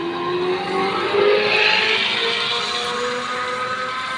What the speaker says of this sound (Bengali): ওরা গাড়িতে উঠে গেছে।